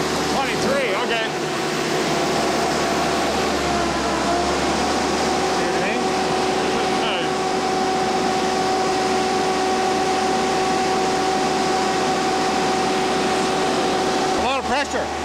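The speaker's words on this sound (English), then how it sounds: "Then you hit the button. And then it speeds up. Yeah. To full throttle." A Cummins diesel engine powering a 13-yard ship crane grapple runs at full throttle, a steady loud droning roar with a constant tonal hum, continuous throughout with faint voices under it.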